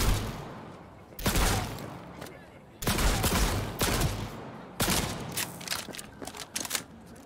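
Bursts of automatic gunfire in the video game Cyberpunk 2077, set in the Heywood and Vista del Rey districts: several loud, rapid volleys separated by short pauses, each a dense rattle of shots that trails off.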